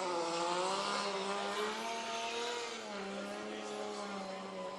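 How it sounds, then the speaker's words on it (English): A 2JZ turbo-powered Nissan S15 Silvia D-Max drift car at Fuji Speedway, with a sustained, loud engine howl that holds steady, then dips slightly in pitch as the throttle eases, with a continuous harmonic drone throughout. "Followed by Masashi Yakoy here in the 2JZ turbo-powered S15 Silvia D-Max, his signature blue color."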